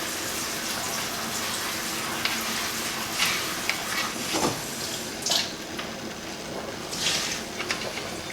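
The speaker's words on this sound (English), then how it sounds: "So now that they're out in this sieve here, I'm going to run them under cool water." Pierogies sit in a sieve and are gently rinsed under a steady flow of cool tap water, giving a continuous soft broadband hiss with a few brief splashy surges and clinks near the end.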